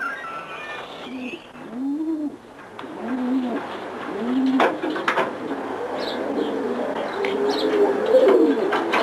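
Racing pigeons coo in a loft with front sliding doors, several soft, rounded calls repeating at close range over a steady hum, with scattered brighter chirps and clicks building toward the end.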